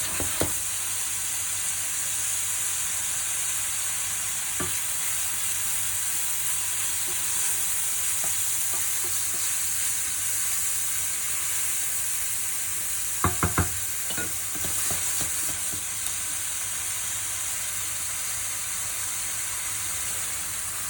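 Green courgettes sweat in a pan with a steady, soft sizzle and hiss, broken by a few light clinks of a utensil stirring and scraping against the pan.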